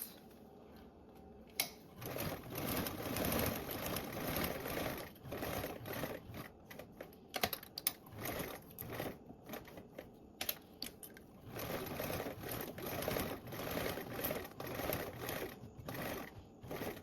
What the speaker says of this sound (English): We can go ahead and top stitch around this with that 1/8 seam allowance.